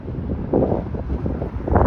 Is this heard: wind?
yes